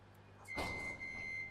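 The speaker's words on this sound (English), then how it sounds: "Are we going to do door sounds?" A Class 380 train door in Train Sim World 4 opens with a quick pneumatic hiss and slide, followed by a steady high electronic warning tone that carries on beneath a low hum.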